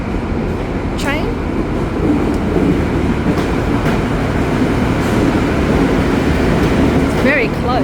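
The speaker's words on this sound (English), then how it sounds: "So it's a PT coming in, which is just a normal, I suppose, intercity train." XPT intercity train arriving at Southern Cross Station in Melbourne, a loud steady rumble of the rolling train close by throughout, with brief squeals and a voice speaking over it.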